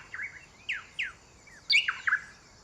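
A pair of rosy thrush tanagers sing a rollicking duet in a Panama park, trading short, sweet downslurred whistles in quick succession, clear and fairly close against a soft background hiss, with no talk.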